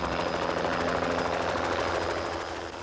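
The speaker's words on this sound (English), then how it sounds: "And there's the chopper, right on time." Helicopter arriving at a makeshift pad on a point of land near a Canadian hydrography ship: a loud, steady rotor chop and engine drone, close and continuous, easing slightly at the end.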